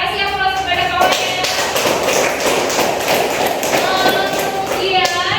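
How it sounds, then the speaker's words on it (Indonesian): A classroom of students claps for a classmate in a dense burst of hand claps, with children's voices audible under and around it. "Ayo kasih aplaus kepada kawannya."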